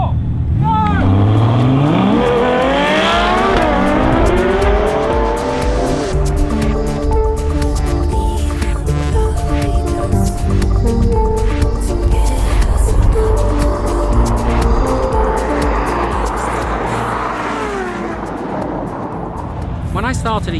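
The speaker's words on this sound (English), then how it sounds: "Let's see how quickly the McLaren gets off the line." Lamborghini, Ferrari and McLaren supercars roar off the line in a drag race, engines revving hard and climbing through gears as a loud, continuous blare that holds for the whole stretch before easing slightly at the end.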